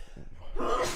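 A single close sneeze bursts out after a short breathy intake, loud and abrupt in a quiet room where a podcast is being recorded.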